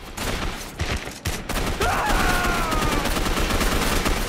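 Rapid turret gunfire in a Batman video game, a dense continuous barrage that stays loud and close after a brief stutter at the start.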